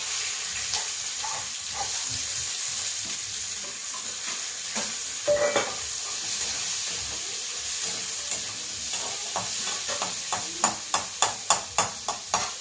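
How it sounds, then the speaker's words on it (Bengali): Nigella seeds, ginger, garlic and onion sizzle steadily in hot oil, a close continuous frying hiss broken by scattered spatters and pops that quicken into a run of sharp crackles near the end. "কালো জিরে দিলাম, আদা রসুন পেঁয়াজগুলো ফোড়ন দিয়ে দিলাম।"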